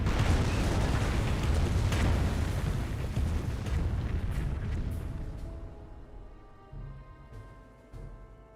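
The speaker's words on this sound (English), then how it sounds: "Calliope rocket barrage shooting on in." A Calliope rocket barrage in the video game Company of Heroes sends out a dense, loud rumble of overlapping explosions that slowly fades, with a few separate blasts near the end.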